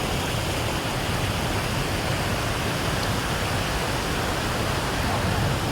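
Fast-flowing river water near a hill stream bathing spot makes a loud, dense, unbroken rushing roar, close by and steady from start to finish.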